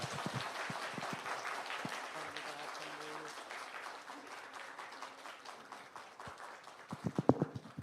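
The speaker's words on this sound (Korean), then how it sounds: "박수 쳐주시기 바랍니다" Scattered applause from a modest church congregation, steady clapping under faint voices, swelling briefly near the end.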